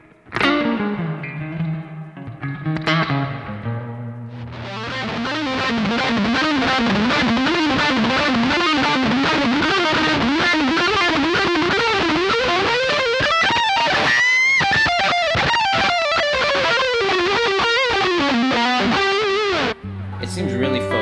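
Distorted electric guitar through a Laney L5-Studio amp, a few sustained chords then a dense run of fast riffing and bends, loud and continuous, ending with a low chord.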